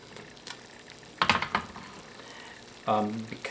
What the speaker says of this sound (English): reduce our heat so that it's not boiling. We want it just to a simmer.